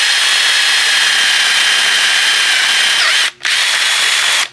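A power drill boring into a broken bolt runs loud and continuous with a high, steady whine, cuts out briefly, then spins up again before stopping.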